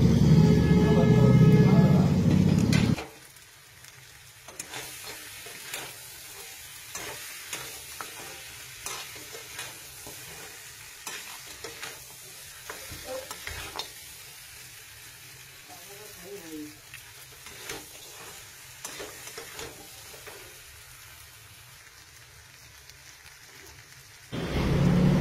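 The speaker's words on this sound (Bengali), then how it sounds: "মাটনটা মোটামুটি কষানো হয়ে গেছে" Mutton kosha being stirred and fried in a wok, with soft sizzling and scraping stir strokes running steadily throughout, a louder burst at the start and end, with no talk over it.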